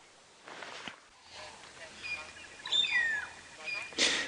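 A magpie shrike calls at sunrise on a safari drive: short whistled notes and chirps that rise and fall, moderately close, with faint movement and soft background sounds.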